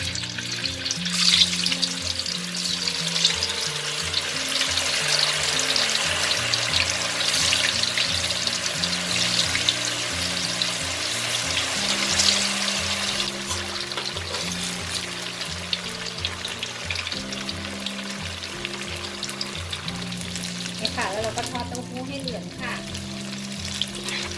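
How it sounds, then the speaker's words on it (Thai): Tofu fries in hot oil for a long stretch of busy, close bubbling sizzle with occasional stirring, as someone talks intermittently over it. "แล้วเราก็มาทอดเต้าหู้ต่อเลยค่ะ"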